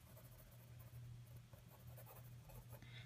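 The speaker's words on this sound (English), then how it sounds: "a mechanical pencil" An HB 0.7 mechanical pencil scratches across paper in short, close strokes while a design is drawn, a faint, steady scribbling over a low hum, with no talk.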